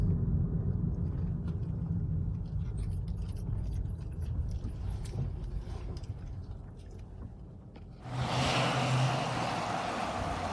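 Car driven slowly and pulled in to park at the Fountain of the World property, a close low engine rumble that settles quieter, then a louder burst of rushing broadband noise over the last few seconds.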